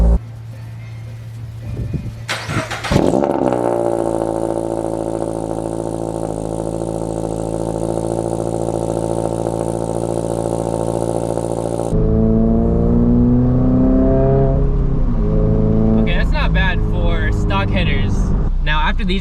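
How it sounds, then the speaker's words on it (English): A 2022 Subaru BRZ with a new catback exhaust starts up with a sharp crank and burst, then settles into a loud, steady idle that shifts tone partway through, close to the exhaust, with voices talking over it. "I'm so used to the catless startups, but let's hear it with this exhaust."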